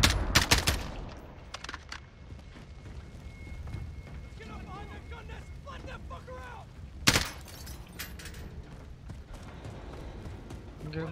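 Video game gunfire with a loud burst of rapid shots at the start and another sharp volley midway, separated by quieter in-game sounds and a voice speaking over it.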